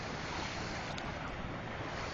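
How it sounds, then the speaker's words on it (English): The flooded Housatonic River after Hurricane Irene rushes in a continuous broadband roar, steady and fairly faint, with wind noise on the microphone and no voices. "River's raging pretty good right now"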